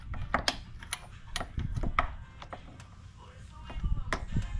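A ratchet backs out the bottom screws of an ARB plate mount, giving quick bursts of close metallic clicking and clanking with short pauses between them.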